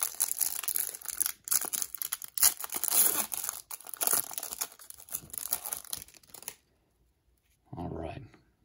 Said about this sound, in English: So we're going to open these, this pack of foil board.